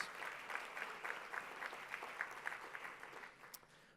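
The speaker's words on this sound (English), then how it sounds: "that deserves a round of applause" Audience at an award luncheon gives a round of applause, distinct claps from a modest crowd heard faintly at a distance, thinning toward the end.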